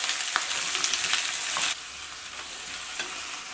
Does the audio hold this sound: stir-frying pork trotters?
yes